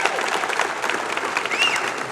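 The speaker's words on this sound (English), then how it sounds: "Another big round of applause, please" Warm applause from an awards banquet audience, dense steady clapping at moderate loudness with a faint whistle partway through.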